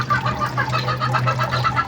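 Hens cluck continuously in a rapid, busy chatter close by, over a steady low hum, with no voices.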